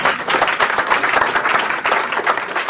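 A hall audience at a Sainte Barbe ceremony for firefighters in Monteneuf applauds steadily, with dense overlapping claps sustained at a constant loud level throughout.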